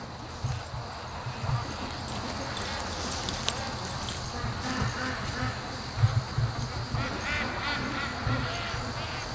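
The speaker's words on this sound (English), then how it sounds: "The other group of ducks are down. I can hear them." A group of free-range ducks quacks intermittently in the distance near the mouth of a creek, soft scattered calls over a constant outdoor buzz of insects.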